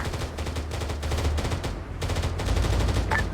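Plasma weapon gunfire in a video game, a loud dense rapid stream of shots with brief gaps between bursts, close and continuous with no talk.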